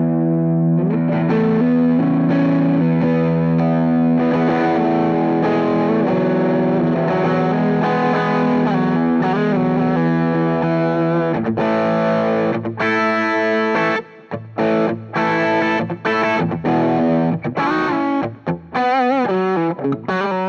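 Electric guitar driven through a Wampler Moxie overdrive pedal plays a thick, saturated riff, sustained chords giving way near the end to choppier, stop-start phrases, loud and close with no voices.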